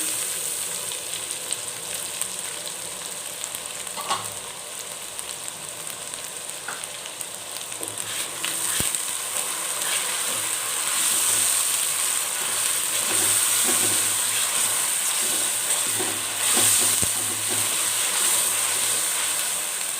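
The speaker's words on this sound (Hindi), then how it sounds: "भून लें अच्छी तरह से इसको।" Masala with tomato paste frying in a pan for beef kofta, a steady close sizzle with faint stirring scrapes running the whole time, growing a little louder toward the end.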